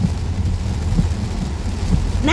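Heavy rain falls steadily in South Korea, a dense, even roar of broadband hiss. A brief rising sound cuts in near the end.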